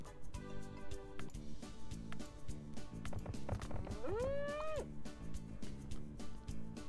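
A cartoonish cow moos once from a Farm Frenzy 2 game, a rising, wavering call lasting under a second, set against steady looping background music with clip-clop-like percussion.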